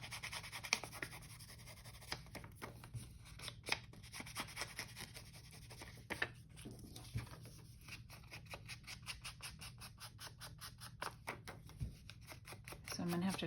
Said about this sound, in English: it really might be the easiest way this time is to measure and cut out the backing for these